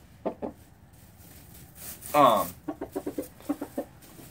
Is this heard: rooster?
yes